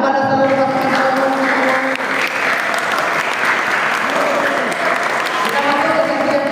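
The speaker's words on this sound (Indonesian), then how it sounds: "Tepuk tangan kepada seluruh pasangan calon." An audience of pesantren students applauds all the candidate pairs at a student organisation election debate, dense sustained clapping filling the room throughout, with faint voices mixed underneath.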